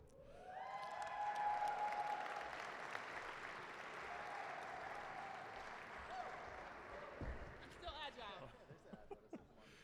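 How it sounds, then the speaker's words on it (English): A crowd at a University of Colorado basketball honors ceremony bursts into loud, sustained applause with cheering that gradually tapers off, while an announcer's voice speaks over the clapping. "She brought her own cheering section tonight."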